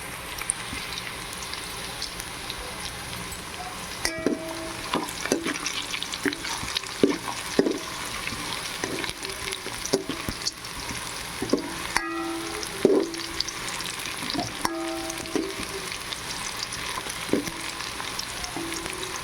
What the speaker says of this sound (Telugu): అలా కాసేపు వేగనిద్దాం.